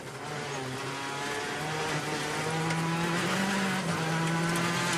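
A rally car at the 2013 European Rally Championship in Portugal takes a tricky corner on a fast descent, its engine rising and falling in pitch as it approaches and revs, growing gradually louder.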